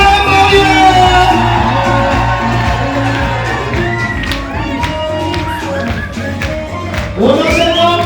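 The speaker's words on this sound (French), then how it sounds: "Du bruit pour la mariée." Wedding guests cheer, whoop and shout for the bride at a reception, their voices mixed into loud, steady dance music, with a burst of yelling swelling near the end.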